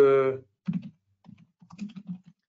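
Typing on a computer keyboard, a few short bursts of soft, close keystrokes after a brief spoken word, with quiet gaps between the clusters.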